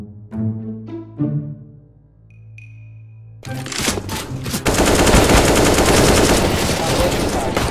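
A few tonal electronic beeps, then loud, dense automatic gunfire from the video game CS:GO that continues rapidly to the end.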